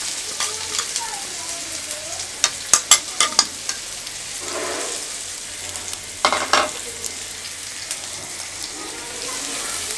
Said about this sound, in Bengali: এই পর্যায়ে আমরা পেঁয়াজটা একটু লালচে করে ভেজে নেব